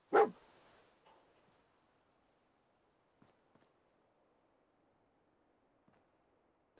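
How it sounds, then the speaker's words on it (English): A dog barks once, loud and close, in Fallout 4 near a parked power armor suit, followed by a softer trailing yelp and a few faint distant clicks over near silence. "You, stop barking. What are you barking at?"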